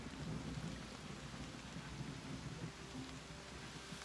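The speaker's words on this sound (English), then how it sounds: "I don't know if it's a good idea to travel through the storm." Steady rain and rolling thunder of a storm in the video game Wartales, a dense continuous wash with low rumbles throughout, no voices.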